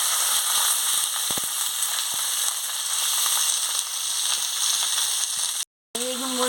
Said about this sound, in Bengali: তেল গরম হয়ে গেছে, 5 ফোড়ন আর শুকনো লঙ্কাটা দিয়ে দিচ্ছি। এবারে কুঁদরিটা দিয়ে দিচ্ছি এর সঙ্গে।